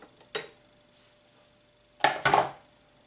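Sugar for kougelhopf dough is stirred in a bowl, heard as a short clink of utensil on the bowl followed after a pause by a louder scraping, rattling burst of mixing, close and without talk.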